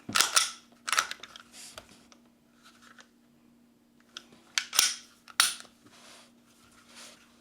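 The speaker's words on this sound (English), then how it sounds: "now I'm just going to go ahead, reassemble the gun" Glock 48 MOS pistol being reassembled by hand, with a handful of sharp metallic clicks and snaps of slide and parts fitting together, close and fairly loud, separated by quiet pauses.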